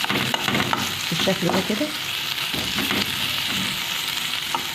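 Peppers and garlic fry and get stirred in a pan, a close sizzle broken by scraping utensil strokes, while a voice speaks briefly over the cooking.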